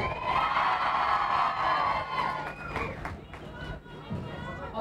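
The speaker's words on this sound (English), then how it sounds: "we're going to get a big applause, isn't it?" Crowd at a mayor's reception for an Olympic silver medalist, a burst of cheering and hubbub with clapping that swells then settles into lively chatter.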